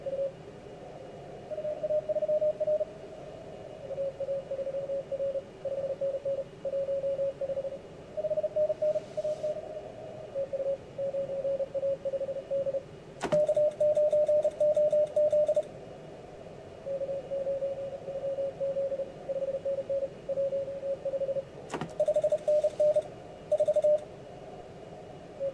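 Morse code signals received on an amateur radio rig, a thin steady tone keyed in dots and dashes over faint hiss, with a couple of brief bursts of static interrupting the keying.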